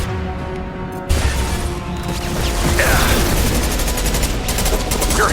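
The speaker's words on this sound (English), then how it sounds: "Concussive shot ready. Fire." Concussive shot fired in Mass Effect 2, a sudden heavy blast followed by sustained rumbling combat noise with mechanical clatter and scattered gunfire, loud and close.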